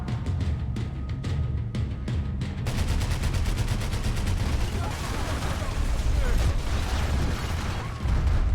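Light machine gun fire in Max Payne 3, sustained bursts of rapid shots amid heavy game action, loud and dense throughout, with a sharper run of regular reports in the opening seconds.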